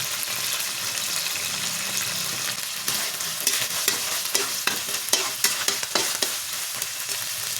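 Scrambled egg with tuna flakes and corn kernels being stirred in a pan, with a loud, steady sizzle and frequent scraping and clinking from the utensil toward the end.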